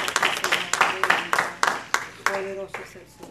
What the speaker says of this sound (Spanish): pueden darle un fuerte aplauso